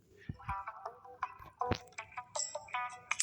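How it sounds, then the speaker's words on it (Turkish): A phone rings in a Gameloft GTA-style mobile video game, a bright electronic ringtone playing in short melodic bursts, clear and close with no talk over it. "Telefon çalıyordu."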